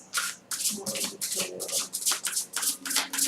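Tarot cards being shuffled by hand close up, in a quick series of about a dozen crisp riffling bursts with short pauses between them and no talking.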